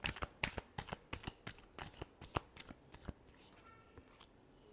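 Tarot cards are riffled and shuffled by hand in a quick run of about a dozen crisp, close flutters that taper off near the end, with no talk over them.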